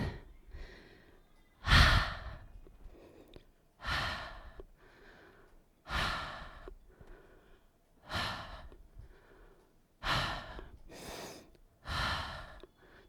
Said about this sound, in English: Dragon's breath.